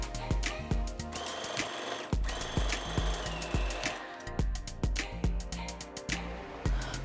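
A sewing machine stitches the top seam of a cloth mask, its needle chattering in steady rapid bursts with brief pauses, close and clear with no talking.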